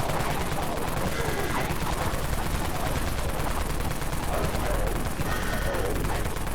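Dawn Mag firing at zombies in Dead Frontier: dense, continuous rapid-fire gunfire roaring without a break, loud and close, with no voices.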